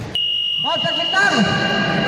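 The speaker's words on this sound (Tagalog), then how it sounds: "Jem, paano tayo mag-reset ng timer? Ayaw mag-reset" A game timer buzzer that will not reset sounds as a steady, shrill electronic tone, with people talking loudly over it in Filipino from start to end.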